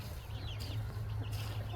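Fifteen-day-old chicks in a leaf-littered coop give a few soft, faint chirps and clucks over a quiet, low background.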